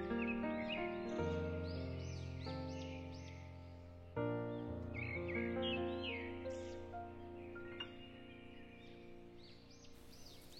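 Birds call near paddy fields at evening, with crow-like caws and chirps scattered over a steady, layered droning background that runs throughout at moderate loudness.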